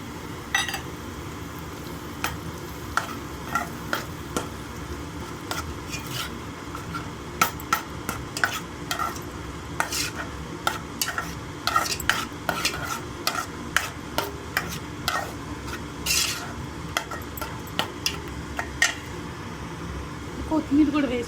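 Three eggs being stir-fried with coriander in a pan for egg fried rice: frequent sharp scrapes and taps of a spatula against the pan over a soft sizzle, close and irregular, while someone talks throughout.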